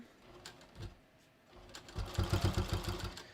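A sewing machine stitching a bathrobe runs in short bursts, a brief whir followed by a faster, steadier rhythmic stitching run, close and fairly quiet.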